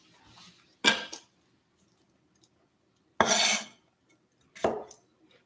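A lid goes onto a cooking pot of simmering green and white chili, giving three separate metallic clatters spaced by quiet stretches, fairly close and clear.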